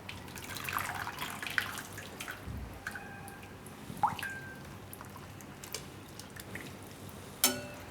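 Blanched spinach and brinjal tipped into a bowl of ice-cold water in a home kitchen, heard as faint drips and small soft splashes, with a brief sharper clink near the end.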